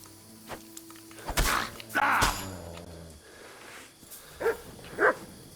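A dog in the medieval game Kingdom Come: Deliverance 2 gives a few sharp barks and yelps amid combat thuds and footsteps, moderately loud with gaps between bursts.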